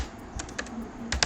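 Quick keystrokes on a computer keyboard while entering URL names for a Django website, a handful of crisp close clicks in two short bursts with no talking.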